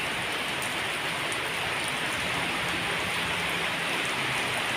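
Steady rain pours down continuously in Huai Prap, Rayong, a dense, even hiss of drops on surfaces with no pauses and no voices.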